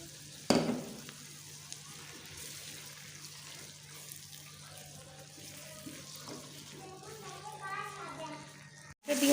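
Onions and tomatoes for baingan bharta fry in a pan with a soft continuous sizzle, a clatter as the tomatoes go in at the start and faint stirring throughout, with a voice talking over it.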